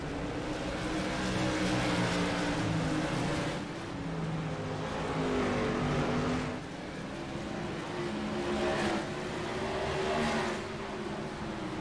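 Whelen Modified race cars roar through a turn at Concord, a loud, steady engine drone with rising and falling pitch as several cars pass in waves, close and sustained throughout.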